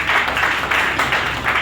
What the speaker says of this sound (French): vous devez l'applaudir également